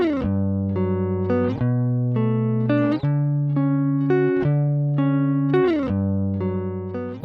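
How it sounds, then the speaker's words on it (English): A mono electric guitar loop plays a repeating melodic phrase with sustained, ringing notes, clear and upfront, without any voices. "So first, let's hear this guitar loop."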